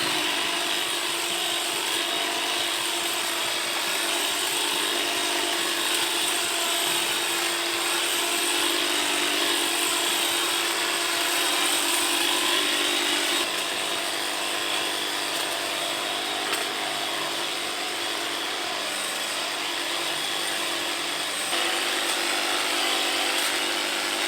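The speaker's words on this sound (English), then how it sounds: "We've been testing out the newish Stihl HLA66 pole hedger for a couple of months now" A Stihl HLA66 pole hedge trimmer runs steadily and loud for the whole stretch, a constant high buzzing motor drone with no pauses.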